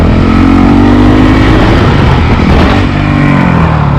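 Honda CRF450L motorcycle engine, loud and close, held under steady throttle with a rising and falling rev pitch that drops slightly near the end, with no talk over it.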